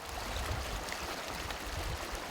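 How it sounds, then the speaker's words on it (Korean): Stream water on the Taehwa River near stepping stones that link Jung-gu and Nam-gu in Ulsan, flowing as a steady, continuous wash of broadband rushing noise with no voices. "흐르는 물소리에서 강한 생명력이 느껴지시나요?"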